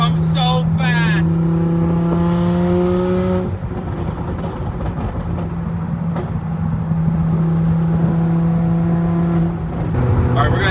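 A supercharged V10 Audi R8 accelerates hard, its engine note climbing steadily in loud sustained pulls with brief breaks at gear changes, heard from inside the car as people talk over it.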